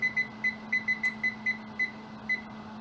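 A kitchen timer beeps in a steady series of short, evenly spaced electronic tones over a low background hum, set while baking a homemade pumpkin pie.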